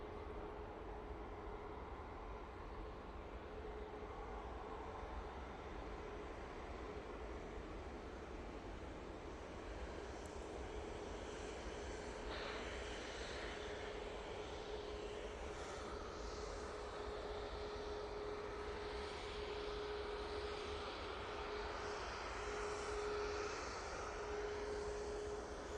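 Airbus A320neo airliner engines at Manchester Airport, a steady distant jet roar with a faint whine, continuous and even throughout with no voices.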